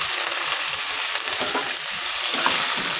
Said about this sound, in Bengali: মশলাগুলো আমি ভালোভাবে ভেজে নিচ্ছি। এখন আমি মাংসগুলো দিয়ে দিই।